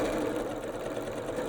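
A sewing machine stitches steadily through fabric for a brief, continuous run, its fast even motor whir close and loud with no talking.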